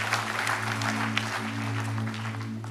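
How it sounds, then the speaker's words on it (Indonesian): Congregation clapping in a church, a steady wash of many hands over a constant low hum, continuous and fairly close for the whole stretch. "Berikan tepuk tangan bagi nama Tuhan."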